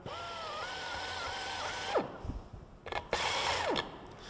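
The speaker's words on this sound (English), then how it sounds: "I can just drill this here on the table, holding it in my hand securely." Air-powered hand drill boring a 3/8 inch hole in a workpiece held by hand on a table, a steady high whine that winds down, then short bursts of the motor restarting and stopping.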